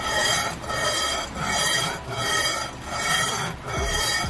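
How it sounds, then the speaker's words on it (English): Abrasive scuffing on a Toyota CT26 turbocharger exhaust housing, a steady rasping rub that repeats in strokes about every second, loud and close with no voices. "So I just got the exhaust housing there already, did some nice scuffing"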